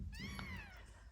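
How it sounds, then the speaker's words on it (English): One long, tonal meow from a female Ragdoll cat on heat, sliding slowly downward and heard close over a low background rumble. "If you can hear meowing in the background, that's Etna, who's having her first call on season"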